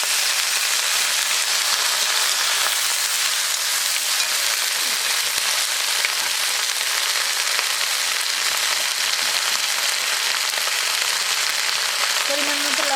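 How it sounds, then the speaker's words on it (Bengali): Washed pumpkin flowers fry with dried red chillies in a pan, giving a loud, constant, even sizzle from start to finish with no speech over it. "এখন কুমড়ো ফুলগুলো ভিতরে দিয়ে দিচ্ছি,"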